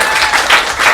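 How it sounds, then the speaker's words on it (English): Audience applause at the end of a live show, close and loud dense clapping filling the whole short moment without a break. "Big round of applause for Chris O'Leary who had us here tonight."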